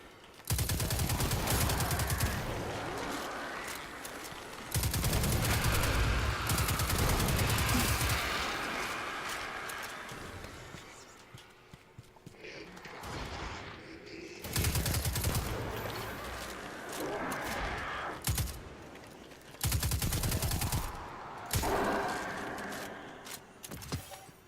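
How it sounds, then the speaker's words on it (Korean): Guns firing in the video game Destiny 2, several loud bursts of rapid automatic gunshots separated by quieter gaps, each weapon's report sounding slightly different. "그 총마다 약간 그 반동이랑 쏘는 소리랑 이런 게 다 달라가지고"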